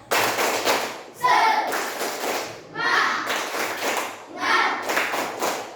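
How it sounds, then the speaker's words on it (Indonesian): A group claps in a rhythmic spirit-clap pattern during a teacher training session, bursts of sharp, loud claps in repeated phrases separated by brief pauses, with voices chanting along at times. "Sekali lagi kita tepuk semangat."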